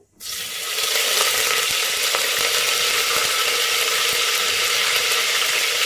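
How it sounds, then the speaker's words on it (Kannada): Mustard seeds and curry leaves hit hot oil with a sudden loud sizzle that stays steady and dense throughout, with scattered sharp pops and crackles close by. "ಸ್ವಲ್ಪ ಸಾಸಿವೆ ಹಾಕ್ಕೊಳ್ಳೋಣ. ಹಾಗೆ ಒಂದು 4 ಎಸಳು ಕರಿಬೇವು"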